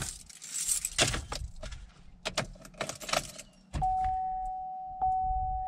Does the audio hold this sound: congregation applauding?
no